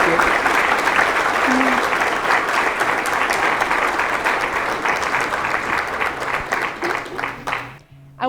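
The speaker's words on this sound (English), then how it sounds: "can we give a round of applause to Judy, please?" A room full of people applauds after a talk at a community event, producing a steady, loud wash of clapping that holds for most of the stretch before tapering off and cutting out near the end.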